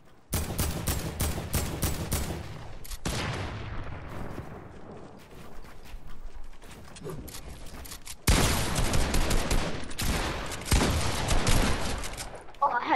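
Fortnite gunfire during a firefight: loud, rapid volleys of shots in dense bursts, a short lull, then heavy sustained shooting that runs to the end.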